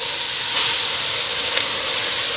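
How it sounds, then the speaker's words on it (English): Chopped holy trinity vegetables hit a hot roux for chicken and sausage gumbo, giving a loud, steady sizzling hiss that stays even from start to finish. "Now we're gonna go ahead and add in our Holy Trinity."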